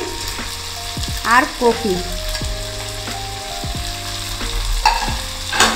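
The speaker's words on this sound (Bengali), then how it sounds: "এগুলোকেও ভালো করে নাড়িয়ে নেব, ভালো করে যাতে মিশে যায়" Beans, ridge gourd and cauliflower are stirred together while frying in a pan for a mixed vegetable labra. The sizzle is loud and steady, with repeated spatula scrapes and knocks and a few brief spoken words.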